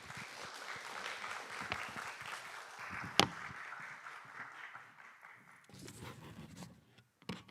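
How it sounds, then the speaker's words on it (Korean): Korean church congregation clapping to welcome a pastor to the pulpit at a youth worship service, a dense spread of hand claps that fades and thins out, with a sharp click near the middle. "우리 목사님 나오실 때 큰 박수로 환영하도록 하겠습니다."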